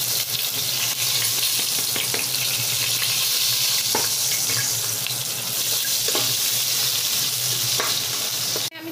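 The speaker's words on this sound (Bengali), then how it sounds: "এখানে আমি যে পেঁয়াজটা ভেজে রেখেছিলাম সেটা দিয়ে দিচ্ছি।" Previously fried onions hit a hot pan of spiced mutton kasha with a loud, steady sizzle throughout, and brief clinks and scrapes of stirring come through as well.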